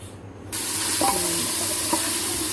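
Masala of salt, chili, turmeric, coriander and whole black peppercorns fries in a little oil for shahi daal, a loud hiss bursting in after a brief quiet moment, with faint stirring knocks under the steady sizzle.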